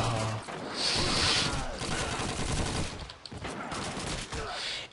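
Bursts of dense automatic gunfire and shots crackle through Call of Duty 2 play, fairly faint and continuous, with someone talking over parts of it.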